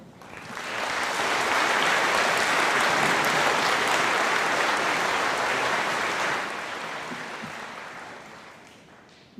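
Audience applause at the McClain High School 2022 commencement ceremony welcomes a speaker: broad, steady clapping from a large crowd that swells quickly, holds strong for several seconds, then thins and fades toward the end.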